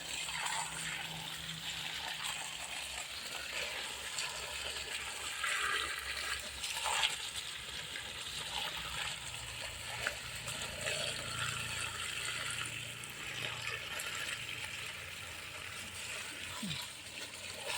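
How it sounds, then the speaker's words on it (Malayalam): A continuous gushing rush of water poured around the base of a coconut palm, steady and fairly close, running for many seconds with slight rattles and shifts. "ഒരു മീറ്റർ ചുറ്റളവിലെങ്കിലും നല്ലോണം നനയത്തക്ക വിധത്തിൽ ഞാൻ ഒഴിക്കലുണ്ട്"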